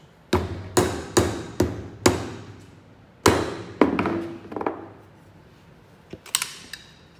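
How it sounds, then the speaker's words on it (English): Sharp metal hammer blows on a punch driving a shifter bushing out of a Subaru Forester, about eight strikes in a loose rhythm, each ringing briefly, then a few lighter taps near the end. "So put your punch in, get some sort of hammer."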